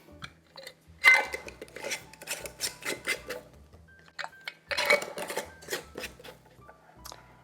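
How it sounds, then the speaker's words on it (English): Lids screwed onto jars of homemade plant-based vegan yogurt: close, scraping twists and light glassy clinks in two bursts of activity, with quiet pauses between. "So we're just gonna screw the lids on."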